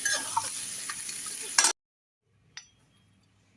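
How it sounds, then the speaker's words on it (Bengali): Mutton frying in a pan gives a loud, steady sizzle with some stirring, then cuts out abruptly, leaving near silence broken by a single faint clink or scrape. "এই জন্য আমি মাংসটাকে ভালো করে ভেজে নিব।"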